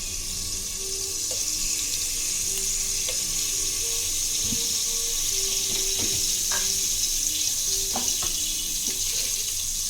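Dried red chillies sizzle in hot oil for a tadka tempering for tomato rasam in a home kitchen: a steady, close, bright hiss with faint clinks and scrapes scattered through.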